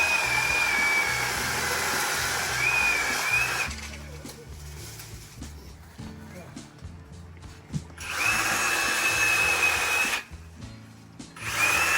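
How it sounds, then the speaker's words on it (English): Corded Sawzall reciprocating saw cutting through branches while pruning lilac bushes outdoors, loud sustained buzzing bursts that start and stop, with quieter gaps of clattering between runs. "He just likes to use the sawzall."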